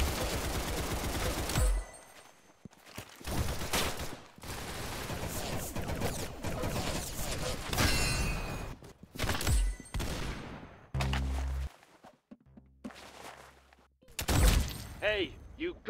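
Rapid bursts of gunfire in the Roblox game Arsenal, loud clattering volleys broken by short gaps and sharp single shots, with voices speaking between the shooting.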